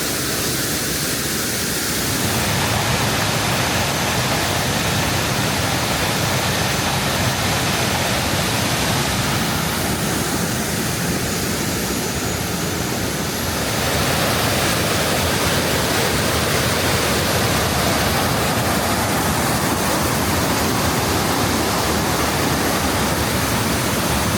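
Mae Sa Waterfall in Chiang Mai cascades in a loud, continuous broadband rush of falling water, close and steady for the whole stretch with no voices over it.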